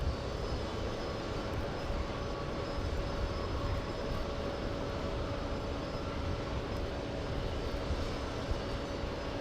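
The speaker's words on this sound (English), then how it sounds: "We have JetBlue, the A220 pushing." JetBlue Airbus A220 airliner at JFK airport, its engines giving a steady, loud broadband roar that holds unbroken throughout without any pauses.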